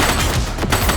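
A short, dense burst of gunfire in the video game The Precinct: several rapid shots blur into one loud, continuous crackle.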